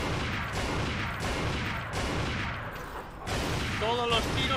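Gunfire in the video game Resident Evil 4, played with the Life In Hell mod, comes as a dense run of noisy bursts that briefly give way to a thin tonal sound near the end, with no talking.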